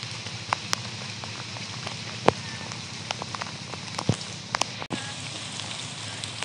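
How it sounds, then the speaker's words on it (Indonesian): Rain falls steadily outdoors over a fish pond, a dense even patter with scattered louder drops standing out, and no voices. "Hujan-hujan"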